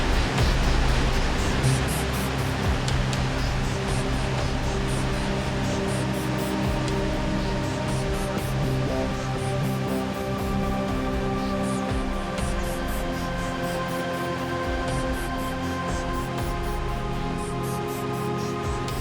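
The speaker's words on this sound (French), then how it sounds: "Les cascades" Water cascades steadily down falls on the Tiber in Italy, a dense, loud, unbroken roar of rushing water that holds level throughout with no voices.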